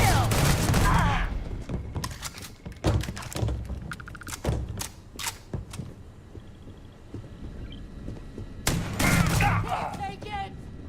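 Video game gunfire in bursts of rapid shots and heavy thuds, loud and close, with a shouting player voice heard between volleys.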